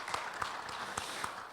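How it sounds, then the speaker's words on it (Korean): A conference audience at a seminar on decentralized finance in Seoul claps, a scattered patter of separate hand claps at moderate distance, with no voices over it. "박수 한번 부탁드리겠습니다"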